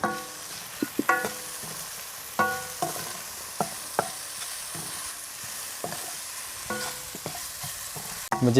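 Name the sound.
spices sautéing with salt in a pan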